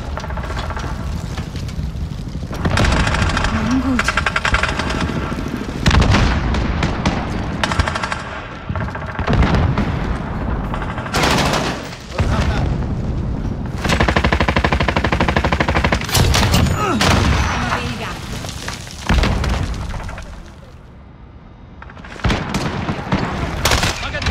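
Sustained gunfire in Call of Duty Modern Warfare 2019 team deathmatch on the Crash map, rapid machine-gun bursts and single shots near and loud, broken by brief lulls, with game voice callouts mixed in.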